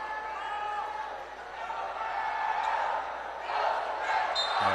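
Crowd noise fills a college basketball semifinal between JRU and San Beda, a steady roar of cheering and shouting that swells toward the end, with bouncing balls and commentary mixed in underneath.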